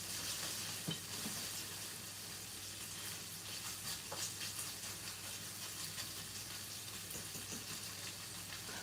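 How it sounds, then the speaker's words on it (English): Scallops sizzle and fry steadily in a hot pan as they brown, a continuous hiss with soft occasional pops throughout. "scallops, they're just about done. I'm going to try to let them brown a little more."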